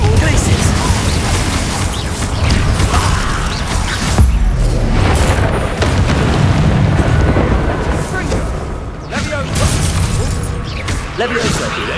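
Spell blasts from the Hogwarts Legacy game burst and boom in a loud, continuous barrage of crashes and explosions, while a voice keeps shouting spell names over the din.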